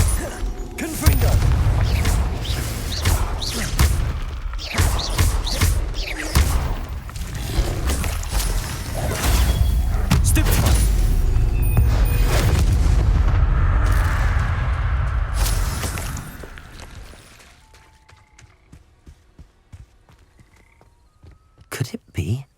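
In the video game Hogwarts Legacy, the Confringo fire spell is cast and explodes with loud booms and whooshes amid dense, rumbling game effects that hold for about fifteen seconds, then fade to sparse, quieter clicks.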